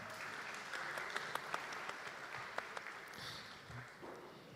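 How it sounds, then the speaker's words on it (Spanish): An audience applauds a regional director of Habitat for Humanity at a financing event, a dense wash of clapping with a few sharper individual claps standing out, steady and moderately loud before thinning slightly. "Fuerte los aplausos, por favor, para Gema."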